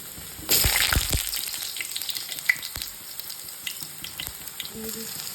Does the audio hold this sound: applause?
no